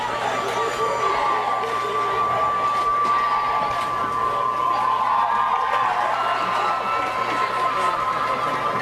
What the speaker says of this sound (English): Boy, this Northview crowd is excited tonight.